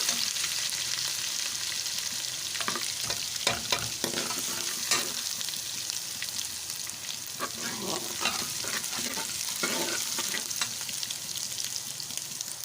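Garlic ginger paste fries in a pan under steady stirring, a continuous close sizzle with recurring bursts of scraping and clatter from the spoon, no talk.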